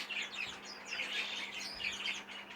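A young budgerigar chick chirping while being handled, a string of thin, high squeaky cheeps repeated in quick irregular bursts, close and fairly faint, with no talking.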